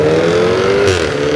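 A 2023 BMW X4 xDrive30i with its 2.0-litre engine and twin exhaust pipes gives a loud, smooth droning exhaust note that holds steady, then dips slightly in pitch near the end.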